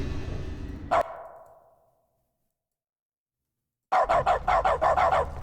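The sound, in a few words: dog barking in The Stanley Parable video game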